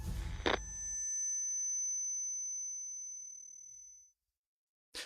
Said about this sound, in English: A shrill beeping sound suddenly interrupted our deployment.